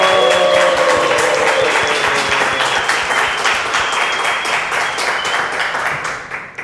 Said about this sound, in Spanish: este aplauso que ustedes escucharon es en vivo